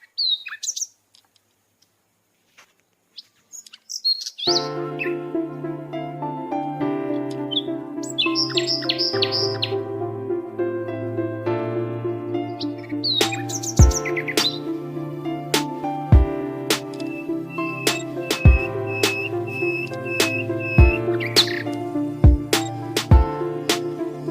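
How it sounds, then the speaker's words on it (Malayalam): Birds chirp and chatter in a green countryside setting of fields, trees and ponds. High, quick tweets recur throughout over a steady musical backdrop with sharp percussive accents, and no voices. "പക്ഷികളുടെ കലപില ശബ്ദങ്ങൾ"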